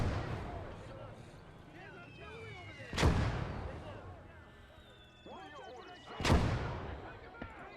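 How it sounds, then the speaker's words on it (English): Two heavy mortar blasts in the World War II Eastern Front game Call to Arms Ostfront, one near 3 seconds and another near 6.3 seconds, each loud with a rumbling tail over steady battlefield din and distant whistling. "Mortars."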